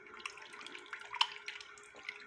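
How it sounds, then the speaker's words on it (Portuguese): Water splashed into hot oil in a pan while preparing tilapia bait, giving a faint, crackly sizzle and scattered spits over about two seconds with no talking. "Joga um pouquinho de água aqui"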